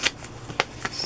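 Old paper greeting cards handled at an indoor flea market give a few brief papery flicks and rustles, near and fairly quiet, with a faint soft shuffle between them.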